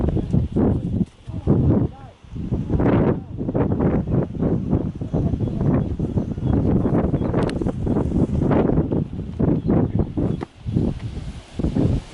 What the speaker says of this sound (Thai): ลมพัดแรงมากๆครับ